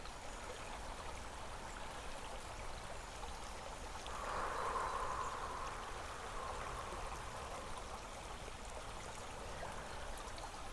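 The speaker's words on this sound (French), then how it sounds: "toute cette eau qui coule dans cette forêt" Water flows in a forest stream as a faint, continuous trickle and rush that swells slightly in the middle before settling back, heard alone with no voices.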